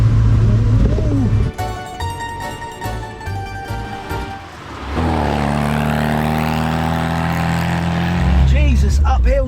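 A vintage Italian camper van's engine labours up a hill in first gear, a loud, steady low drone that shifts pitch partway through, with cabin noise around it.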